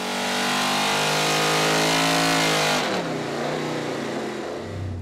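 An LS7 V8 in a Corvette screams through a dyno pull, a loud sustained high-rpm roar with rising harmonics that cuts off sharply near the end and falls into a lower, rumbling idle-down.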